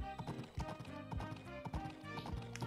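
Horse hooves clip-clop in Story of Seasons: Pioneers of Olive Town, a steady trotting rhythm over game music with some chatter underneath.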